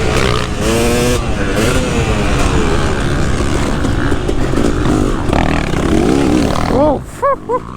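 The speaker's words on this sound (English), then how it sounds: "I love this two-stroke, man." Two-stroke motocross motorcycle engine revving hard and close, rising and falling in pitch with rough clatter, ending in a few sharp throttle blips, while a rider's voice is heard intermittently.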